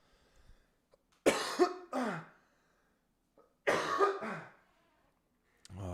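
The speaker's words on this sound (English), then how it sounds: "Oh, that's not good. Can't be coughing." Two separate bursts of harsh, close coughing, each a quick cluster of coughs, with quiet pauses between and another starting at the end.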